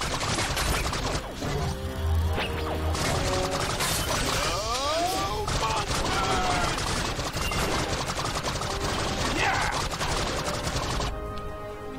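Laser fire in the Monsters vs Aliens game zaps and whirs constantly amid clattering mechanical noise and crashes, a busy, loud stream of sci-fi shots with descending and rising tones.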